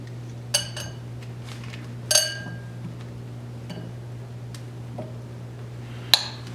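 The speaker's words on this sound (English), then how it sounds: "you can easily scoop with spoon into your bowl" A metal spoon scoops ripe mango flesh into a bowl, giving a few sparse, sharp clinks of spoon against dish over a quiet background hum.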